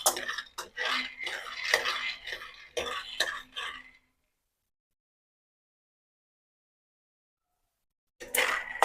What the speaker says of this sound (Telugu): శనగిత్తనాలు బాగా వేయించుకోవాలండి